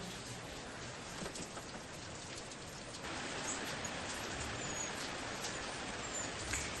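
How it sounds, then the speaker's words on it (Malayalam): Steady heavy rain hisses continuously, growing a little louder partway through, with no voices. "പുറത്ത് മഴ നന്നായിട്ട് തിമിർത്ത് പെയ്തുകൊണ്ടിരിക്കട്ടെ."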